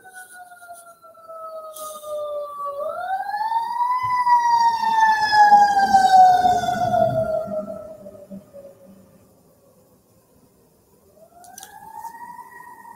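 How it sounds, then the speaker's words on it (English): A wailing emergency siren rises and falls in pitch, swelling louder before fading out, then starting to wail again faintly at the end. "And the sirens prove it."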